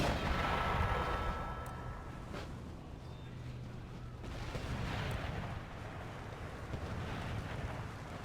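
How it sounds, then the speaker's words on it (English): Mortar artillery fire in a battle from the strategy game Empire Total War, modded with Darthmod, heard as a steady, distant, rumbling bombardment with muffled booms under wind-like battlefield noise, without any voices. "still have some pounding fire from the mortars"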